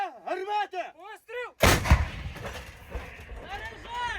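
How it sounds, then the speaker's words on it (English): An American-made M777 howitzer fires with one loud, sharp boom that rolls into a long rumbling tail, following a stretch of voiced calls and shouting. "witnessed the firepower of an American-made howitzer 777"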